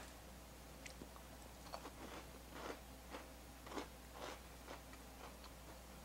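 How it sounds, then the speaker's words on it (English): Crunchy chocolate chip biscotti is bitten and snapped apart, giving a series of faint, sharp cracks and crunches at a steady pace over a low background hum. "I'm gonna try just a bite of the biscotti, and I'm gonna break it so you can see just how crunchy it is"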